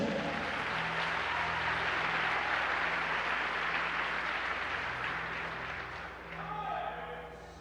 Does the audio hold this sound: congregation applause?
yes